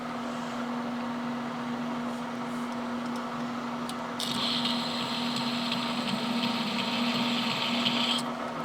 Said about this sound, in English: I'll use my deburring tool here